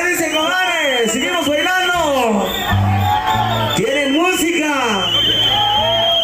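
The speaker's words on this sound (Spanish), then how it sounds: "ese grito de la gente de la ventana Chapula Chiapas" A festival crowd at an event in La Ventana, Chiapas, whoops and yells loudly and continuously under live music, with someone shouting over the noise near the microphone.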